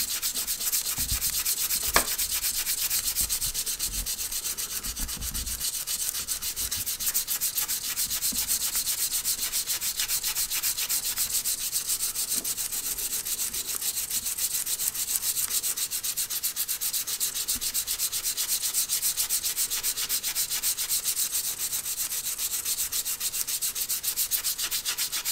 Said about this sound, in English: This one I still need to sand a little bit more off of.